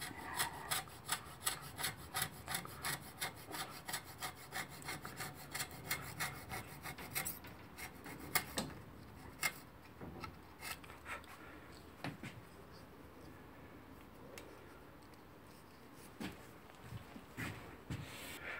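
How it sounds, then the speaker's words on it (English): A coarse rasp files a metal mitre plane body backed by a piece of wood, quiet close-up strokes scraping in a steady, even rhythm at first, then slowing to sparser, irregular passes. "I'm going to go through with this coarse rasp."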